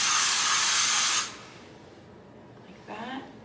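A can of hairspray hisses in one steady burst of about a second over a low bun, then stops, followed by quiet room tone and a brief soft rustle.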